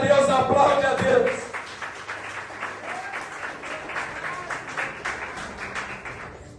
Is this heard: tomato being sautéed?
no